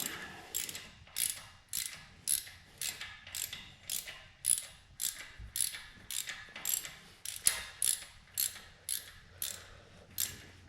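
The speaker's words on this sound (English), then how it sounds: "So I'll go ahead and get these header bolts out." A hand ratchet clicks in a steady series of about twenty short bursts while header bolts come off a supercharged 1968 AMX engine, close and crisp with quiet pauses between pulls.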